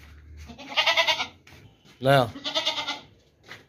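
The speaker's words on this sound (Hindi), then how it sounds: "बहुत ज़बरदस्त बकरा है।" A goat bleats loudly in a farmyard around goats, bucks and sheep, one harmonic bleat in the middle, with someone talking before and after it.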